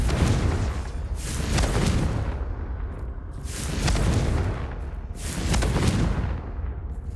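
Confringo blasting spell explosions in Hogwarts Legacy, three loud booming bursts about two seconds apart, each swelling into a broad roaring rumble that fades before the next.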